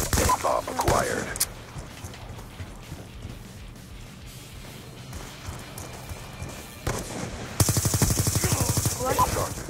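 Rapid automatic gunfire from a Black Ops 2 Search and Destroy match: a short burst early on, then a loud, dense volley of repeated shots near the end, with quieter game sounds between.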